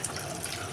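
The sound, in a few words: tap water running while peeling boiled green bananas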